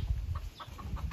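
Hens cluck softly in a short, close burst of several low notes, with a faint steady background hum.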